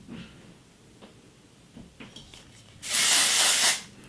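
A single short hiss of a hair texture spray close by, lasting under a second, after a few quiet soft handling taps.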